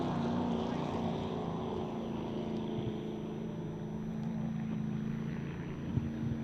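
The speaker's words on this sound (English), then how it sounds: "to see that kind of horsepower and those kind of boats ripping around as part of this event" Racing powerboats roar around Lake Charm during a memorial race event, a continuous distant engine drone with a faint bump near the end, carried under a quiet background at moderate distance.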